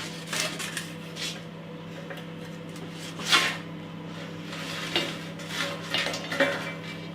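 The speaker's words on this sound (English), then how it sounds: "I'm just getting the fish and the chips out on a plate." Dishes and cutlery clink and scrape in a series of light knocks, as fish and chips are moved onto a plate close by, with a faint background hum.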